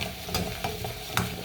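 Garlic cooking in hot butter in a pan gives a steady close sizzle, with a few light clicks of a utensil stirring through it.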